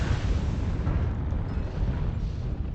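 Artillery strike explosions in MechWarrior Online land as a dense, continuous low rumbling roar of blasts, loud and sustained with no distinct gaps.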